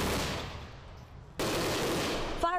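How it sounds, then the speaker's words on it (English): Illegal fireworks set off during a firefighter safety demonstration, giving dense rapid crackling bursts like gunfire that jump abruptly louder about halfway through, with no talking. "Firefighters showing how quickly illegal fireworks can go wrong."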